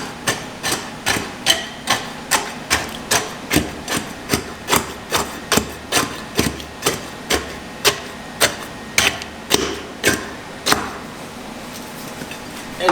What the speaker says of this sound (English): So this is the rod. I'm going to rod it 25 times.